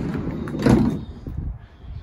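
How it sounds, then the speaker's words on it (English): Sliding side loading door on a 2020 Volkswagen Caddy van rolls and thuds shut, one short firm clunk near the mic with a brief rumble around it, no talk over it. "you can see you do have a side sliding loading door"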